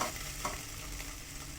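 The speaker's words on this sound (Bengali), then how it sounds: "আদা রসুনটা দিয়ে ভালো করে" Onions with ginger-garlic paste frying in a pan, with steady sizzling and a utensil stirring through the masala for a short, even stretch, no voices.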